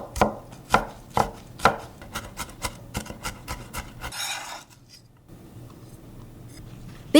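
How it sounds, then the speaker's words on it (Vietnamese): A knife minces shallots rapidly on a cutting board, a quick run of sharp, evenly spaced taps close by, followed by a brief scraping sound and quiet. "Đầu tiên mình băm hành tím á các bạn."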